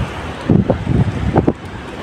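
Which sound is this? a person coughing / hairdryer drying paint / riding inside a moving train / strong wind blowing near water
strong wind blowing near water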